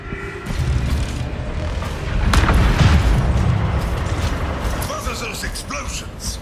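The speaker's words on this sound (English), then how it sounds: "Those explosions. They're using self-detonating robots to breach the walls." Deep booming blasts from self-detonating robots breaching walls in the Overwatch 2 video game, rumbling explosions layered with mechanical game effects while a voice talks over the action.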